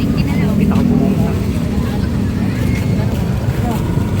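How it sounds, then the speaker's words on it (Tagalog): A motorcycle is ridden, its steady engine drone mixed with wind rush, loud and continuous for the whole stretch while a rider talks over it. "Sarap i-drive nitong motor na to."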